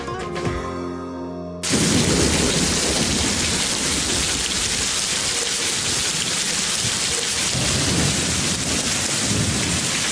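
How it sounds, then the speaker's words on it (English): Heavy rain pours down in a dense, constant roar after a sudden onset, with thunder rumbling underneath, loud and immersive. "Feel that thunder."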